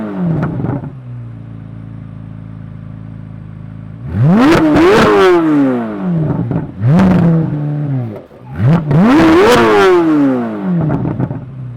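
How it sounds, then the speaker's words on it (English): A supercar engine rumbles at a low idle, then fires up loud and close with three sharp, rising revs that climb and fall back, each separated by brief dips toward idle. "let's go to the next point, but I say we should hear this thing start up."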